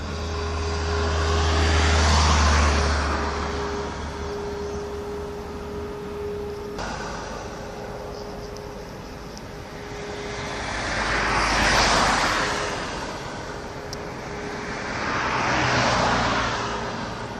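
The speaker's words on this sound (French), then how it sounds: "Et là les camions qui s'en vont donc" Loaded trucks leave the grain quay at Port Est on Réunion Island. Their engines swell into loud passing roars, then fade, three times over a constant low drone, with no talking.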